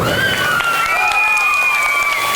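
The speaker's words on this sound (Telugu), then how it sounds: "కీర్తన మేడం కూడా ఒకసారి గట్టిగా మనం చప్పట్లు కొట్టాలి" Sustained applause from an audience cheering a performance, steady and dense with crowd noise and some bright, whistle-like tones running through the whole stretch.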